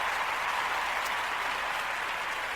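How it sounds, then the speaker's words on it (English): A steady round of applause from a crowd, dense and continuous clapping throughout, fairly loud and even with no voices on top. "I'm gonna give him a round of applause because he a local legend right now."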